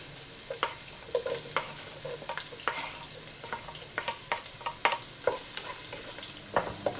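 Garlic and onion sauté with ginger in a pan for chicken tinola: a soft, low sizzle runs underneath while a utensil stirs and scrapes in irregular sharp clicks, close by, with no talking.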